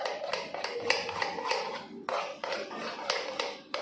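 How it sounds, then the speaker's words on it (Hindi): Cream and mayonnaise stirred together in a bowl, with quick repeated wet scraping strokes of a spoon at close range, sounding alone. "दोनों चीज़ों को अच्छी तरीके से मिक्स कर लेंगे।"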